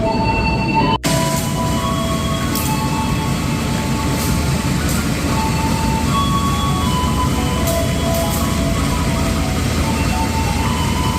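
Train travelling from Cirebon station toward Purwokerto, a loud steady rumble of wheels on track with a dense, continuous roar and faint higher tones drifting through, with no voices.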